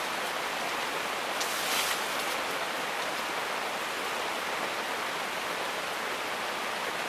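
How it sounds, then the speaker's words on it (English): Steady rain falls on a camping shelter or tarp outdoors, a dense, even hiss that continues without pause, close and fairly loud, with no voices. "it will not stop me sleeping in the rain anyway, but I love the sound of it"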